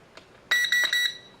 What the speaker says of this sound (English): let me land it, and you're gonna hear 3 beeps